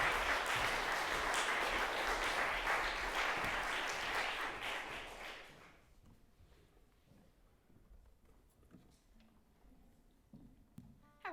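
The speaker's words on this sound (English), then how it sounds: "please give Rebecca a big round of applause" Dense audience applause at a traditional music student performance, loud and sustained for about five seconds before dying away to faint room noise and scattered handling sounds.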